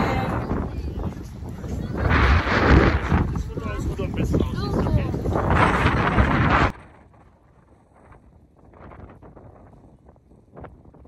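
Loud gusts of wind in Amsterdam buffet the microphone with voices mixed in, then the roar cuts off abruptly, leaving faint background sounds.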